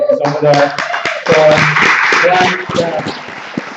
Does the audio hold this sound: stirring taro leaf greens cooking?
no